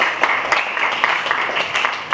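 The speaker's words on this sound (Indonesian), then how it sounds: "tepuk tangan" Classroom applause from high school students during an Islamic religious education lesson, a short burst of scattered hand claps with irregular rhythm at moderate level.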